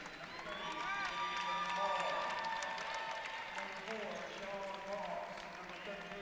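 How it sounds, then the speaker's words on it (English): A basketball crowd applauds and cheers steadily in the gym as players head to the bench, with sneaker squeaks and a commentator talking over the noise. "So a nice round of applause as many of the stars from tonight's game get a much-deserved rest."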